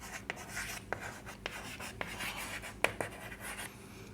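An equation for a Class 10 linear equations lesson being written on a board, with scratchy strokes and sharp taps spaced through a steady background hum, close and moderately quiet.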